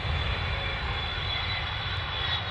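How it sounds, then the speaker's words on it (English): A Lockheed U-2 spy plane descends toward an airfield with a steady, loud jet engine roar and whine, continuous and unbroken with no voices. "The U-2 descends toward the airfield while a chase vehicle accelerates behind it."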